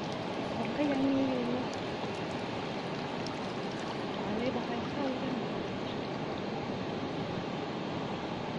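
Rain falls outdoors as a dense, steady hiss of drops lasting throughout, fairly close and unbroken, with faint tonal sounds briefly surfacing early on.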